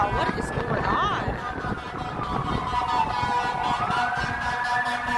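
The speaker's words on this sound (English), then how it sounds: "Another fire truck." A fire truck's siren wails through a busy Toronto street on a winter night, sweeping up and down in slow arcs amid street bustle, footsteps and nearby voices.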